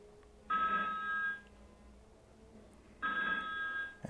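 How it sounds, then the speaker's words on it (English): A telephone rings twice in a quiet room, each burst a bright electronic trill lasting about a second, with a pause between rings. "And there's someone trying to phone me"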